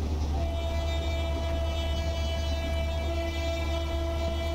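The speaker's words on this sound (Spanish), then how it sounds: "te dedico este bocinazo" A CSR passenger train on Argentina's Sarmiento line sounds a long, steady two-tone horn chord, loud and close, held for several seconds over a rumbling engine and track noise.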